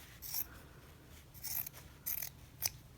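Scissors trimming the fabric seam allowance close to the zipper on a double-sided zipper pouch: four short, crisp snips spaced apart, close and fairly quiet, with no talking.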